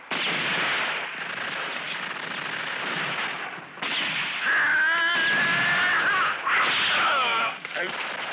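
Machine guns fire in a 1971 western film battle scene, with harsh, rapid bursts of gunfire running across the scene, mixed with shouting voices and battle noise.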